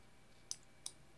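Bare RJT129 relay switching as 5V is applied to its coil: two sharp, close mechanical clicks about a third of a second apart, with quiet room hiss between them.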